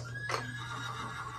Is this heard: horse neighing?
yes